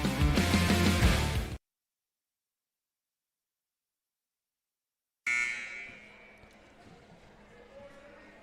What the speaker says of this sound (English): You hear the buzzer.